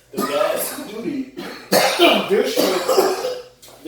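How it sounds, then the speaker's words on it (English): Several harsh coughs in two bursts, close and loud, mixed with throat sounds and voices. "We coughing a lot"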